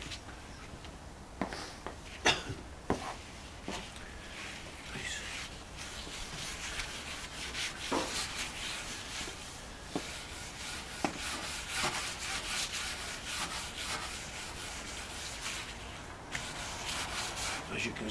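A wooden propeller is rubbed and polished by hand during French polishing restoration, giving steady close-up rubbing and swishing strokes with occasional sharper scuffs and taps, no speech.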